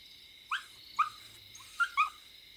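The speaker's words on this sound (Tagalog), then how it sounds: "Tinahulan lang ng aso." A dog barks four times at a distance over steady background hiss, short yelps in an uneven rhythm.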